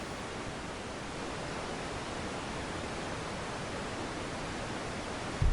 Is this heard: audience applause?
no